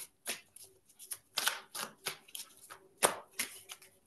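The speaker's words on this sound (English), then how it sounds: "I'm gonna pull one more card for you guys again to kind of wrap up." Tarot cards shuffled and pulled by hand, a quick run of soft riffling slaps and brushing flicks in an uneven rhythm, close and quiet with no talking.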